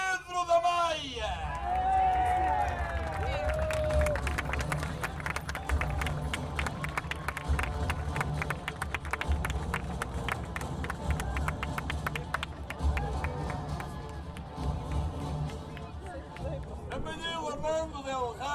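At the Óbidos medieval market, a crowd greets a knight with sustained applause and cheering: dense, continuous clapping and shouts that hold strong for most of the stretch, then thin out near the end amid crowd chatter.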